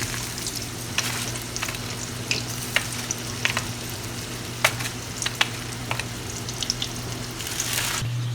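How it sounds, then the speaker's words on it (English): Oil sizzles and crackles steadily as green beans fry in olive oil in a pan, with sharp pops and spatters scattered throughout and a low hum underneath. "Here are the green beans frying in olive oil."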